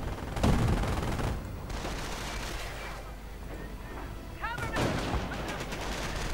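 Gunfire rattles through a World War II strategy game battle between Grenadiers and an anti-tank gun, with dense bursts of rifle and machine-gun fire and distant blasts continuing under a narrator's voice.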